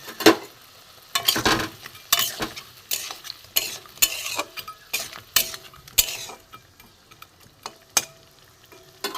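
Yardlong bean kebab balls go into boiling gravy in a pan, with sharp clinks and stirring scrapes over a soft bubbling sizzle, close and fairly loud in irregular bursts.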